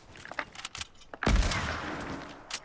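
Gunfire in Fortnite: a few scattered sharp shots, then one loud, close blast that decays over about a second, with a last faint shot near the end.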